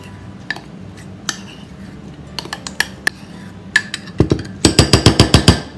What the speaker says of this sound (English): Stir, stir, stir. You want to get all that flour incorporated.